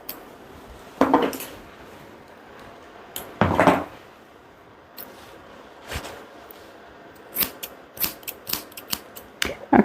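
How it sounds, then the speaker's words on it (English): Slightly curved grooming scissors snip at a Goldendoodle's coat in a quiet room, a few close, sharp cuts followed by a quicker run of short snips. "I'm just trimming straight across with my slightly curved scissors."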